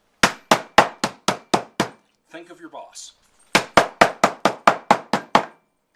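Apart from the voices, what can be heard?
hammer cracking pistachios in a bag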